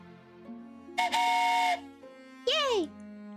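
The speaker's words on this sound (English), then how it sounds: "Train whistle. It's worth a train whistle." Steam-style train whistle sounding in the video game King of the Castle: a loud, sustained harmonic blast followed by a shorter, sharply bending hoot, heard over a steady background tone.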